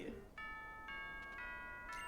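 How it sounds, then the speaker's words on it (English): A school bell chime from Pokemon Moon rings out in a few clear, bright tonal notes in sequence, moderately loud, with a short burst of talk just before it. "Oh, that's the school bell."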